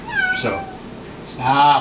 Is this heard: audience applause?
no